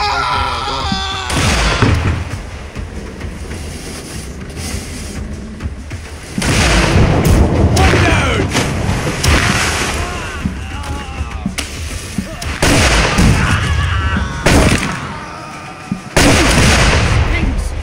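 Grapeshot cannon fire aboard ships in the pirate game Blackwake: several heavy booming blasts in irregular bursts, loud and close, over noisy battle clamor and shouting voices.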